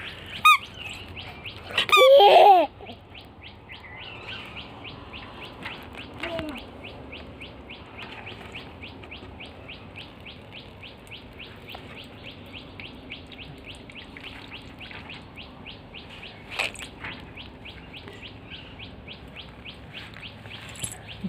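Birds chirp steadily in rapid, repeated high tweets throughout, with a brief burst of louder noise near the start and occasional voices.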